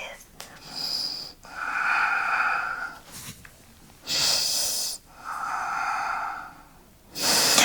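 Slow, deep breaths drawn during a hip-flexibility yoga pose using a strap, with steady inhales and exhales repeating in several long cycles, close and clear with no talking.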